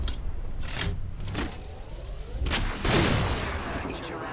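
Scattered gunshots crack in Apex Legends, several sharp reports at uneven intervals amid game noise, with voices heard speaking briefly.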